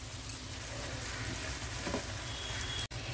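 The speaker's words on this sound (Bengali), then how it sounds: "সামান্য একটু জল দিয়ে আর কষাই। যতক্ষণ আমার তেলটা না ছাড়বে ততক্ষণ আমি কষাবো" Masala sautéed in oil with a little water in a pan over low to medium flame, a soft, steady sizzle and bubbling heard close, alone and without speech.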